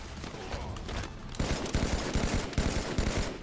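Shotgun blasts and other weapons fire from a Halo 5 multiplayer match hit as a string of loud, punchy reports layered over dense, constant game noise.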